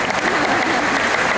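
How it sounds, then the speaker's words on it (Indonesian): Seminar audience clapping together, a dense, steady wash of applause that holds at an even level throughout. "Yeah, you want to clap."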